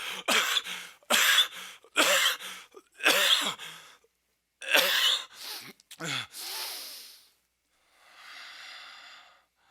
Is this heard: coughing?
yes